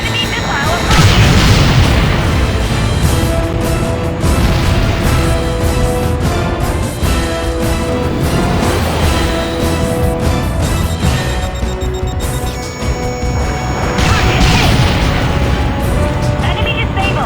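Missile explosions rumble through a video game naval battle against hostile ships, a dense run of booms and bursts rolling almost without a break over a steady, loud background, with a game voice sounding at times.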